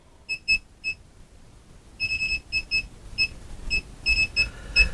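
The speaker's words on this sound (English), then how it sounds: "Well, something's beeping" A digital multimeter emits rapid high-pitched electronic beeps, first a few isolated chirps and then quick clusters of pips in an irregular pattern, clear and close over a quiet background.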